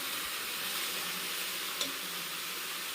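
Soya chunks frying in oil in a pan, a steady, even sizzle with a brief clink near the end, no talking.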